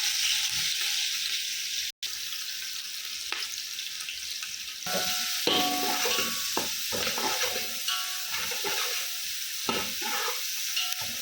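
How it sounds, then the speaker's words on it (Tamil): Sliced onions sauté in hot oil with cinnamon, cloves and cardamom for green pea pulao, giving a loud, continuous sizzle broken by scraping stirs and clinks of the spoon against the pan after a brief cut. "வெங்காயம் வதங்கிட்டு இருக்கு"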